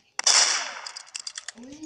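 One sharp gunshot in the video game Roblox rings out, followed by a quick rattle of smaller shots that trails off.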